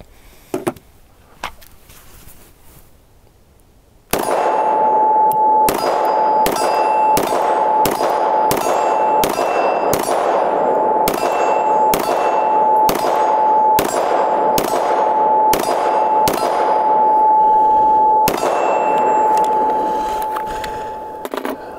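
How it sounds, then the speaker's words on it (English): FN 510 pistol chambered in 10mm firing a rapid string of about fifteen loud, sharp gunshots, evenly spaced, each with a ringing metallic clang, after a quiet start with faint handling. "That is a loud gun."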